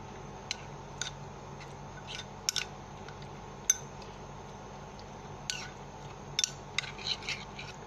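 A spoon stirs and mixes chutney with ketchup in a bowl, faint scattered scraping clicks and taps against the bowl at an irregular pace in a quiet room.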